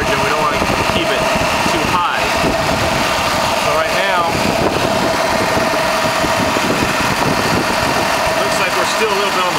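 Car engine idling steadily with the A/C compressor cycling on during recharging, a constant close mechanical hum and whir with a brief clunk near the start and no talk over it.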